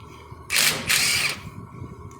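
An air hammer or impact tool working a wedge bolt out of a kingpin spindle on a GMC W4500 / Isuzu NPR truck, giving two close bursts of harsh rattling in under a second, no talk.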